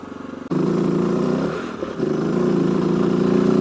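A race-bike motorcycle engine pulls hard under acceleration with a loud, steady mid-pitched drone, briefly dipping as the rider shifts gear before climbing again, heard close from the rider's position.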